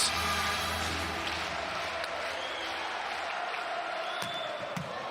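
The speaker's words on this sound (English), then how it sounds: "The crowd are on their feet." Crowd in a volleyball arena during a USA versus France men's semi-final, a broad roar of cheering and applause that stays loud throughout, with a few sharp claps and squeaks on top.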